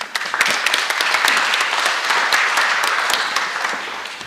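An audience claps for a speaker taking the stage at a food festival talk, a dense burst of applause that swells, holds for a few seconds, then begins to thin out, with no speech over it.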